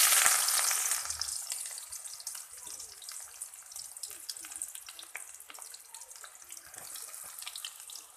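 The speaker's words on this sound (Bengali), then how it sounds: "কড়াইয়ে ওই তেলেই দিয়ে দেবো পেঁয়াজ কুচি" Chopped onion hits hot oil in a wok with a loud burst of sizzling that settles into a steady crackling fry, close by.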